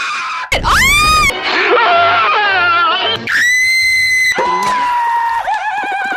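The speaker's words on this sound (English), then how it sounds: "Scream." Animated cartoon character from The Loud House letting out loud, shrill screams in several long bursts, with exaggerated high-pitched cries and wavering yells between them.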